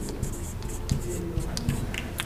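Pen scratching on paper as a time is written out by hand, soft quick strokes in short bursts, close and quiet with faint room noise.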